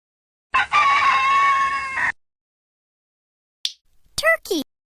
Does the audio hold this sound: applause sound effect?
no